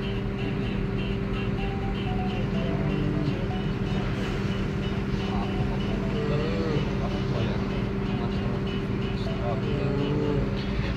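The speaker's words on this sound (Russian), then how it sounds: "машина заведена" A car engine idles steadily while waiting at a toll barrier on the Kapshagay–Almaty road, a constant low hum throughout with faint voices in the background.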